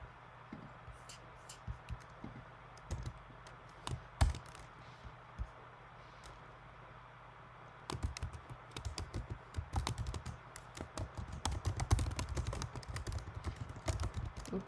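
Someone types on a computer keyboard, with quiet scattered keystrokes early on giving way to a dense, fast run of close clicking toward the end.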